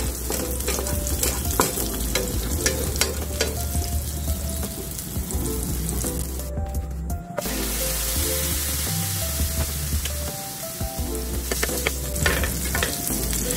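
Corned beef and eggplant fry loudly in a pan, a dense, continuous sizzle with crackles and occasional scraping from stirring, close up throughout.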